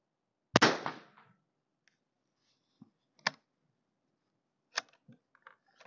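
A single sharp 17 HMR rifle shot fired through a chronograph, loud and close with a brief decaying tail, followed by a few faint clicks and handling sounds.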